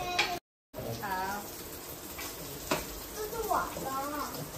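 Pork belly sizzles on a barbecue grill at a family cookout, a soft steady crackle close by under people chatting, with an adult and someone talking.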